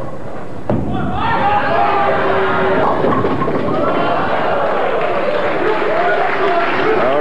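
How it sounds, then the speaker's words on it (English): Standing-room-only bowling crowd at the Gable House in Torrance, California, applauding the tournament winner, a steady wash of clapping and cheering after a sudden onset, with voices mixed into the noise. "Wayne acknowledging appreciation extended by this standing room only crowd at the Gable House in Torrance"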